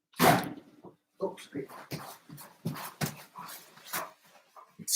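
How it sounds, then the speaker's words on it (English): A big dog whimpers and gives short yips and barks close by, in several separate bursts with brief silences between. "I had to let my big dog in the house."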